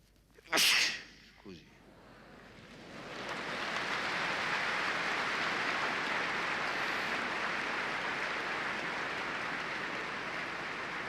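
A single loud sneeze bursts out near the start, followed by a smaller second burst, and then a steady wash of crowd noise or applause-like hiss rises and holds until the end.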